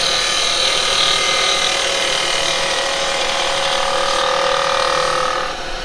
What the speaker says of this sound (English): I'm just working this angle with my tool, okay, but I've got beautiful cuts.